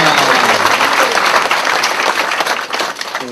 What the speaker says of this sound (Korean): 더 힘있는 박수로 하나님께 영광을 드립니다